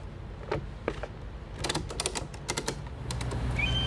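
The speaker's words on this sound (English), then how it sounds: "Pull the straps through the holes in the liner and ratchet them down." Ratchet straps are tightened on a 4 ft Muscle Wall flood control liner in a run of sharp, close mechanical clicks, sparse at first and then coming in quick bursts over a low background hum.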